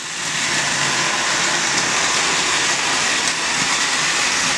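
A small electric motor, a 24,000 RPM Trackmaster motor, whirs steadily with a hissing, rattling rumble as a motorized toy train runs continuously along its track.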